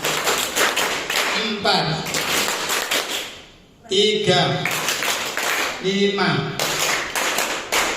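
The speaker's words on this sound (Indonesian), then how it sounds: "Tepuk tangan untuk panjenengan." A group of adults at an Indonesian teacher training session claps in rhythmic patterned bursts, loud and close, pausing briefly midway before resuming, while a leader calls out numbers over the clapping.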